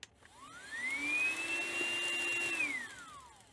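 A Hoover ONE PWR cordless vacuum with a seized brush roll powers up its motor. The whine rises, holds steady for about two seconds, then drops away as it cuts out on its own, alone and close.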